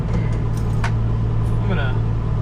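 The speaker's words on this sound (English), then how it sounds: "let's drive Land Cruiser around for a little bit" A 1979 Toyota FJ55 Land Cruiser engine runs steadily while driving, a loud continuous low rumble with a few faint clicks and rattles over it.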